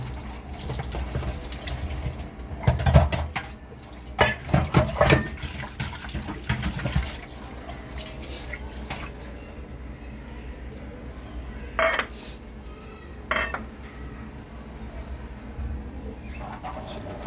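Clattering plates being handled in bursts as shih tzu dogs' food plates are collected, with a few sharp clinks and light scraping amid quieter background noise.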